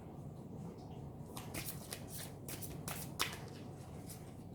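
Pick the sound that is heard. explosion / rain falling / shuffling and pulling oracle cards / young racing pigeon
shuffling and pulling oracle cards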